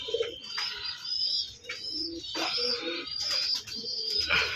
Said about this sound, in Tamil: இது நல்ல புறா, நல்ல டைமிங் இருக்கும்.